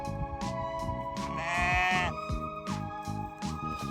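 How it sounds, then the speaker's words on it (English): Sheep on a homestead bleat repeatedly while being moved to new pasture, several overlapping calls close by, one long loud wavering bleat standing out near the middle, with no talking. "So before moving the sheep"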